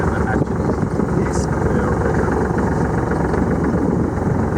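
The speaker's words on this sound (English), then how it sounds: "Can we turn the engine off?" A sailboat's engine runs steadily and loud throughout, a constant low rumbling drone with a brief higher clatter partway through.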